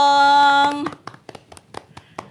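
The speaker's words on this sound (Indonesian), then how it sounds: "Tepuk tangan" Scattered clapping from a small group at a live radio music performance follows a sustained musical chord, the claps uneven and moderately loud, tapering off within a couple of seconds.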